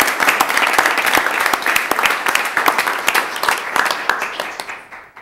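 Audience applause at a meeting about a reverse transfer agreement in Michigan: a burst of dense hand clapping from a small crowd, close and steady before thinning out and fading at the end.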